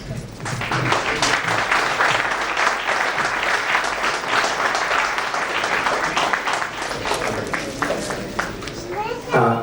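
Sustained clapping from a seated audience at a felicitation function for IAS officers, dense and steady throughout, with children's voices and murmured talk mixed into the crowd noise.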